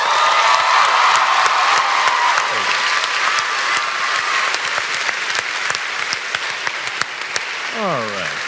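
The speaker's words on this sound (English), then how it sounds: "Give it one more round of applause" Sustained audience applause fills a large PAX West 2016 convention panel hall, dense and steady throughout, with scattered cheers and whoops rising near the end.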